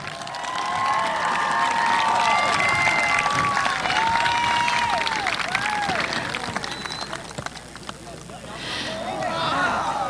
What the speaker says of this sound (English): Graduates, let's give an applause to our parents and families here today.